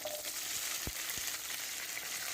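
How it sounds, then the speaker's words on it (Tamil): Shallots and green chillies frying gently in a pan: a faint, steady sizzle with two soft low knocks early on, quiet and close; no talking. "இந்த வெங்காயம் பச்சை மிளகாய் எல்லாமே கொஞ்சம் வதங்கிட்டு"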